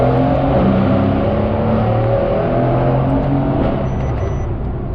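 A steady, loud Mercedes C63 AMG engine of 630 horsepower drones throughout on a wet road, holding a low rumbling tone as the car keeps pulling forward, with no voices.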